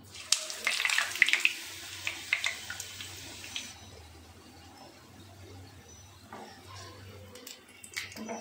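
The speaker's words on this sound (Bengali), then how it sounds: "এবার এগুলোকে আমরা সাদা তেলে একটু ফ্রাই করে নেব।" Stuffed papad pieces drop one by one into hot white oil, giving a hissing bubble that is strongest early and then settles into a softer frying sizzle with occasional small clicks.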